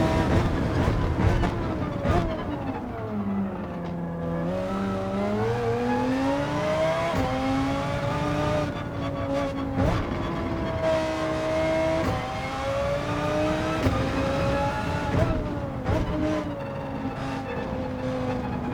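A race car in Gran Turismo 7 drives and slides around the track, its engine revving up and down in long sweeps with repeated shifts, steady and fairly loud with no talk over it.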